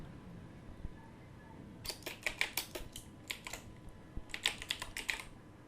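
Close, crisp tapping on a computer keyboard, with two quick runs of keystrokes separated by a brief pause, in a quiet room with no talking.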